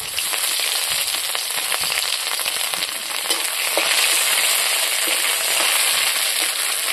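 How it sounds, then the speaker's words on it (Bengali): Bay leaf, green chili and chopped ginger frying in hot white oil give a steady, loud, close sizzle with crackly spits, growing slightly more intense partway through and continuing without pause. "বন্ধুরা তেল গরম হয়ে গেছে, আমি তেলে তেজপাতাটা দিলাম, তার সাথে দিলাম কাঁচা লঙ্কা"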